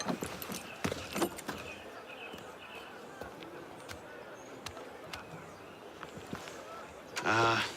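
Horse hooves in the Assassin's Creed Unity video game, scattered clip-clop beats over a murmuring ambient background, with a brief neighing burst near the end.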